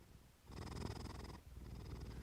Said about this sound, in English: The purring continues, and the story begins.